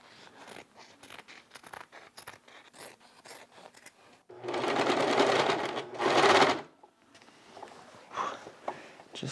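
A sewing machine stitches waxed canvas for a backpack in two loud, close bursts of rapid mechanical whirring, preceded by quiet fabric handling and clicks.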